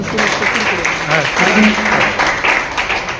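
An audience of trainees at a cooperative training session applauds in thanks, a steady broadband patter of clapping lasting a few seconds while a voice talks over it.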